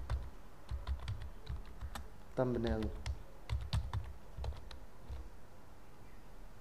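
Typing on a computer keyboard, with quick irregular key clicks close by at a quiet level, running under a man's speech in Hindi.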